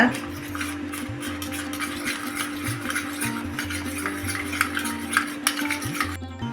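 A spoon scrapes and clinks in a bowl while cornflour is stirred into water, producing repeated light scraping strokes over a steady low background hum.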